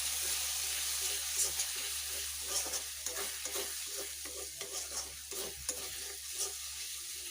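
Mutton curry being stirred in a pan with coloured spice masala, a continuous hissing sizzle under soft repeated scraping and stirring strokes, fairly close and steady, without speech.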